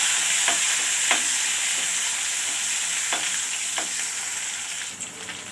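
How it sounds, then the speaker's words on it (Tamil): Crushed ginger and garlic with green chilli and curry leaves sautéing in hot oil, a steady bright sizzle broken by a few sharp scrapes of a spoon stirring the pan, close and constant with no voices. "இஞ்சி பூண்டு அதை போட்டு நல்லா வதக்கிடுவோம்."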